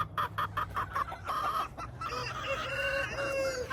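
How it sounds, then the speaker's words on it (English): A rooster crows a loud cock-a-doodle-doo outdoors on a farm on a cold morning, preceded by a quick series of clucks, the crow long and ringing up close. "You hear that cock-a-doodle-doo?"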